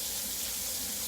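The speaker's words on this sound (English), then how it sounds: "We're gonna wash my hands again." Tap water runs steadily into a kitchen sink while hands are washed after handling sausage, a constant broadband hiss with no talk.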